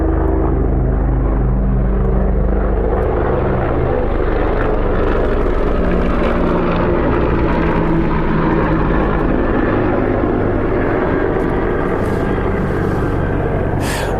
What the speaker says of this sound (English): I guess let's let this plane go by.